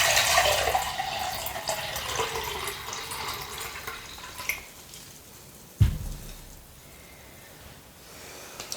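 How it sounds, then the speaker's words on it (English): Water pours steadily from one jar into a smaller jar for several seconds, then thins out, followed by a single clunk as a jar is set down. "That's why I'm gonna pour from this jar to this smaller jar."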